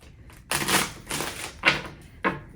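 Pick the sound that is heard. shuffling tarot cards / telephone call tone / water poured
shuffling tarot cards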